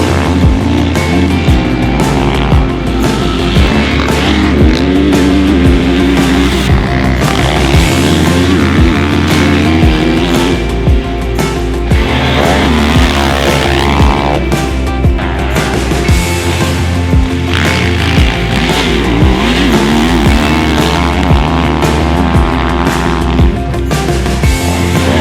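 A 2022 Kawasaki KX450 dirt bike is ridden on a test track, its engine revving loudly and continuously with repeated rises and drops in pitch as the rider shifts and throttles, close and without talk.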